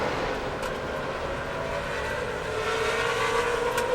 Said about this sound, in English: It sounded like something may have come amiss in the engine.